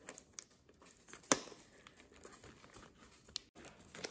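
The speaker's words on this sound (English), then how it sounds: "We're going to open up our first box." Close, quiet crinkling and scratching of cardboard and tape as a sealed box of Topps trading cards is opened, with a sharp tearing snap partway through and scattered rustles.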